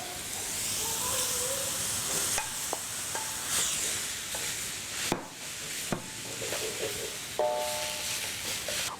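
Grated coconut being stirred and browned in a pan, a steady soft sizzle and hiss with occasional light scraping clicks of a utensil, continuous and close, no talking.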